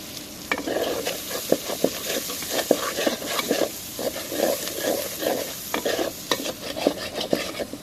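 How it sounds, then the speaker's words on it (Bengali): Onion fries in a hot pan with green chilli and salt, a continuous sizzle under repeated rhythmic scraping and stirring strokes of a spoon, steady and close throughout. "পেঁয়াজটা ভাজা হয়ে গেছে।"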